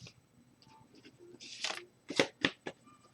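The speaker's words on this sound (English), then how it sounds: "Okay, fan these out. We'll pick a card." Tarot cards are fanned out across a surface, a run of soft sliding rustles followed by several sharp, crisp card flicks and snaps, close and quiet.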